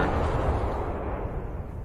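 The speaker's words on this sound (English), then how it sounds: "here's the sound of the glide bomb coming in and, of course, slamming into its target" A FAB-500 glide bomb strikes its target in wartime Ukraine, heard as a deep, sustained rumbling explosion that rolls on without a break, heavy in the low end and with no talking.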